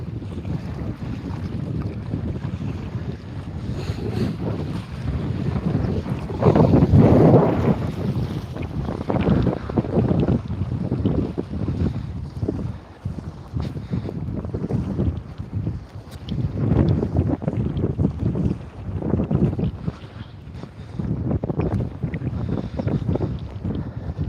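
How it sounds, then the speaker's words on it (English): Strong east wind gusts at a campsite, rumbling hard against the microphone in loud, continuous surges that swell and ease throughout, with no talk. "We've got quite a bit of a wind coming through here"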